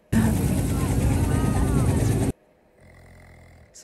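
A loud helicopter roar with rotor throb fills the first two seconds, then cuts off abruptly, leaving a faint low rumble.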